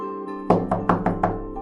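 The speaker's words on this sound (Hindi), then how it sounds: "दोपहर ढल रही थी जब कोई दरवाजे पर दस्तक हुई" A series of five firm knocks on a door, evenly spaced and close, sounding over a steady bed of soft background music in a Hindi family story.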